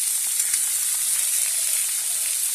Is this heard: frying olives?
yes